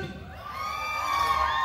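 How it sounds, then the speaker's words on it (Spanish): A crowd at a quinceañera party with a live huapango band answers an MC's call with a sustained shout and whoops that swell slightly toward the end. "¡Y un grito los de Michoacán!"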